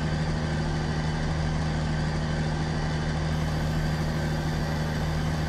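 A rice harvester engine, a 45 model, runs steadily at idle, a loud continuous mechanical drone with a low hum and no pauses.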